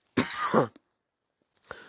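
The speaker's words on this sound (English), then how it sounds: "Excuse me for the cough again." A single close, harsh cough, a short double burst, followed by silence and a faint breath or movement at the end.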